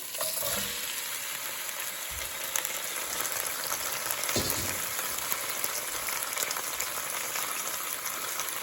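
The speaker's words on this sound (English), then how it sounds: "All right, now I'm gonna add the carrots in here." Carrots sizzle steadily as they fry in a pot alongside browning vegetables for a pot roast, a continuous close crackle with scraping stirs throughout and no talking.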